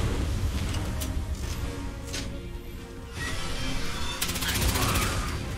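Gunfire bursts in the video game Fallout 76, loud repeated shots and rapid fire layered with game noise and other effects, with a voice speaking in places.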